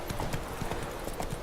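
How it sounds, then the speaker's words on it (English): Horse hooves clip-clop at a steady walking rhythm in The Witcher 3 video game, fairly close and moderate in volume with a faint background hum. "Hands off the controls, and the horse follows the path"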